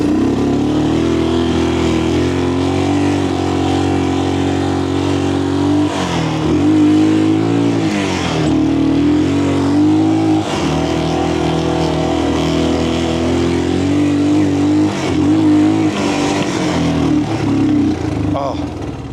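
A small three-wheeler car engine runs and drives nearby, its loud buzzing drone surging and dipping as the throttle changes, with brief revving bursts throughout.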